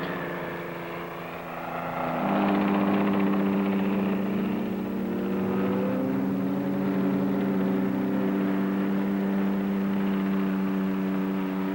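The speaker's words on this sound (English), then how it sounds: "the Whirlwind, the Navy's familiar chopper, a family of steady development" A Westland Whirlwind Navy helicopter engine swells in after a quiet start at the Farnborough air show, then holds a loud, steady droning whine with a shifting pitch as it passes.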